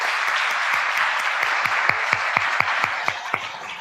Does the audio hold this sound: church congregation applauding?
yes